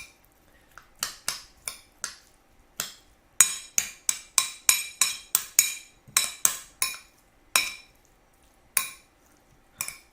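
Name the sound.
mixing blackfin tuna poke with sauce in a bowl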